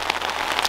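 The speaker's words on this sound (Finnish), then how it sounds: "Pikkasen rupesi sataa vettä" Rain patters steadily on a tent in a Finnish forest during a hunting trip, a dense close drumming of drops without any voices.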